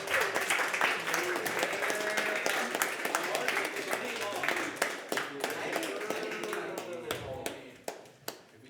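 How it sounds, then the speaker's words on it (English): Applause and clapping from an event audience at a Mario gaming summit finale, mixed with crowd chatter and voices, tapering off into a few scattered claps toward the end. "Can we get a round of applause for the streamers?"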